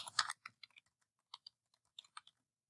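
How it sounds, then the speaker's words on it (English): A computer keyboard is typed on in short, faint bursts, with scattered close key clicks and brief pauses between them in a quiet room. "I'm going to type a little bit"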